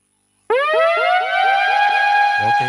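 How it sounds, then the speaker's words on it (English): A loud electronic buzzer ending a poll at a conference session sounds abruptly from silence, a steady harmonic tone with a pulsing warble that holds for over two seconds, alone and close. "That buzzer just ends it."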